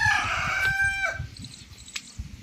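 A rooster crows once, a loud near cock-a-doodle-doo lasting about a second, followed by faint clucking and a brief sharp squawk in a backyard setting.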